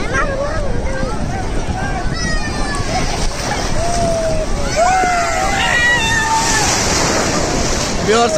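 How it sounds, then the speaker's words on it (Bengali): Big sea waves at Cox's Bazar beach crash and wash ashore in a loud, continuous roar of surf, with voices talking and calling over the water throughout. "দেখছেন, বড় ঢেউ অনেক সুন্দর।"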